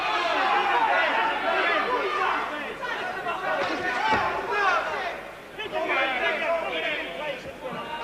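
A boxing arena crowd jeers and boos the referee with a loud, continuous roar of mixed voices, rising and falling, with chatter and shouts running through it.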